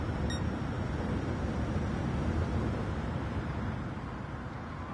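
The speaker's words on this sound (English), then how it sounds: "all you can hear is the wind." Steady wind roar buffeting a 2023 Tesla Model 3 Performance on a Kyoto circuit drive, a constant broadband rush that fills the whole stretch, with no voices.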